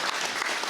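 Audience applause for a shanty singer at a festival show, a brief dense wash of many hands clapping together, steady and fairly loud throughout.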